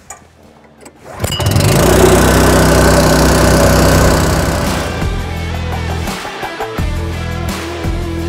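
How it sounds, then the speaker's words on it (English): Portable high pressure pump's small engine cranks briefly, then catches and roars into a loud steady run, settling to a slightly lower, even running note with some uneven sputters near the end. "Now that we have everything set, let's start it up."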